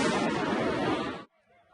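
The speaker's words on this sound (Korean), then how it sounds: "시위대로부터 폭죽 공격을 받은 경찰들" Firecrackers thrown by protesters at police during a racial-justice protest that turned into a night riot make a loud, dense crackling blast lasting over a second, then cut off abruptly to near silence.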